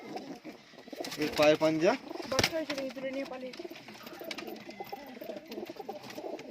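Fancy Giribaz pigeons coo in a loft, their soft throaty calls rising and falling close by while someone talks over them.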